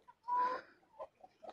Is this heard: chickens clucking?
yes